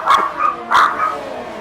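A dog gives two quick sharp barks close by, short yelping bursts followed by a fading tail in a quiet room.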